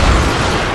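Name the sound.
dynamite explosion in the video game Call of Juarez Gunslinger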